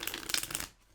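A quick riffle of stiff linen-finish cardstock cards being shuffled, a crisp flutter lasting under a second, close and fairly quiet.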